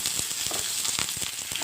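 Onion and garlic fry in a little oil, a close, crackling sizzle dotted with quick sharp pops throughout the short stretch.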